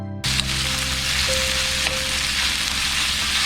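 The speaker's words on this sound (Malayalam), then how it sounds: "സവാള ചേർത്ത് കൊടുത്തിട്ട് നന്നായിട്ടൊന്ന് വഴറ്റിയെടുക്കാം" Sliced onions sautéing in a pan for Kerala-style tapioca biryani, a steady close sizzle and crackle of frying that holds throughout after a brief quiet start, with no talking.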